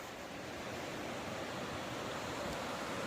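Steady broadband rush of a creek flowing beneath a large trail bridge, a constant even wash of water with no breaks, moderately distant and unaccompanied by voices.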